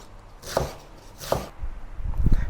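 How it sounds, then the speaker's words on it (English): A kitchen knife cuts Chinese chives into small pieces on a board, giving two distinct chops and then a quicker cluster of cuts, close and fairly quiet with no talking. "Cut it into small pieces like this."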